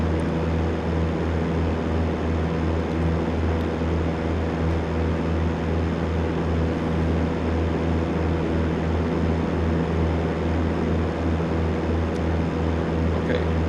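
Cessna 172 propeller engine runs at full power in the X-Plane 12 simulator, a loud, steady droning cabin hum with a throbbing low rumble holding constant throughout.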